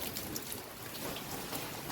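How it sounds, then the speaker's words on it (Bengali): Heavy rain pours down steadily during a cyclone, with water gushing from pipes into a waterlogged garden; a dense, continuous broadband wash with no talk. "দেখো কী হারে জল পড়ছে পাইপগুলো থেকে।"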